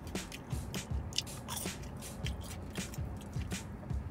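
Crunchy bacon cheddar potato wedges are bitten and chewed close to the mic. A few sharp crunches are followed by softer, irregular chewing at low volume, and there is no talking.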